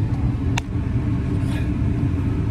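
Car driving along a mountain road on a fishing trip, a steady close, low engine and tire rumble throughout, with a brief faint click partway through.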